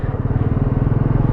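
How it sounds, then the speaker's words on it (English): Royal Enfield Classic 350 single-cylinder engine thumping steadily at close range during a third-to-second downshift with rev matching, a loud, even low pulse throughout with no talk. "So I dropped it from third gear to second."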